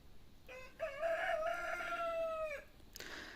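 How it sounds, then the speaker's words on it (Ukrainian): A rooster crows once, a drawn-out cock-a-doodle-doo at moderate distance in a cold, snowless Ukrainian village yard, followed by a brief rustle or cluck near the end. "Кури стоять під забором."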